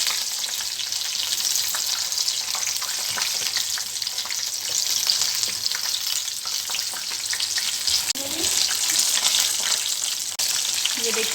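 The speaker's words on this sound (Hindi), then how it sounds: "हल्की आंच पे हमने इसको तकरीबन 15 से 20 मिनट तक फ्राई करना है।" Chicken broast pieces deep frying in oil over low heat, a steady dense crackling sizzle throughout with occasional faint stirring clinks, no voices.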